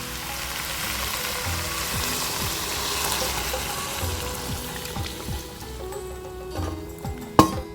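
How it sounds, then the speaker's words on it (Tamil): Mutton sizzles and fries in a pan for Chettinad gravy, a steady broadband crackle with scattered stirring clicks, close and fairly loud, ending in a sharp metallic knock. "மட்டனை போட்டு ஒரு 2 நிமிஷம் இப்படி வதக்கிங்க."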